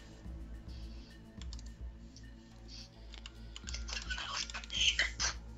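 Rapid clicking keystrokes on a computer keyboard as a lobby name is entered, close and steady, growing busier and louder toward the end over a low background hum.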